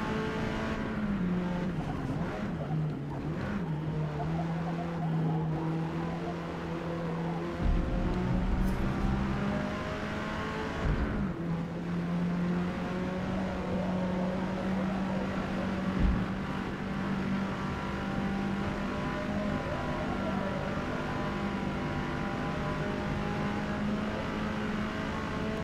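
A tuned Hyundai Veloster N racing in Forza Motorsport, its engine droning steadily up close with a sustained tone, brief dips and shifts as it changes gear and accelerates.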